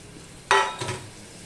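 Fried prawns drop into nearly boiling water in a pan with one sharp, brief splash and hiss, followed by a smaller second burst before it settles.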